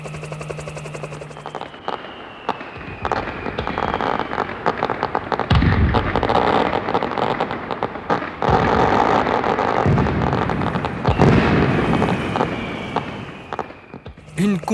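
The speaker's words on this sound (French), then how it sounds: "Une compétition de feux d'artifice illumine les courtes nuits d'été" Fireworks burst over a summer-night fireworks competition in Québec, a run of loud booms and crackling bursts spread across the clip over a constant rumbling outdoor background.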